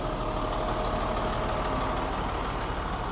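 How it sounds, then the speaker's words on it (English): Military truck with a Caterpillar 3116 diesel idling just after starting, a dense, steady low rumble that stays loud and even throughout, with no talk. "That was probably one of the easiest 3116 trucks I've heard start."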